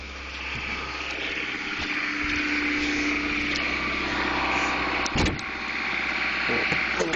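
A 1994 Honda Accord with a small exhaust leak idles after a cold start on a frozen morning, a steady engine hum and exhaust rumble heard from close by, with a few faint bumps.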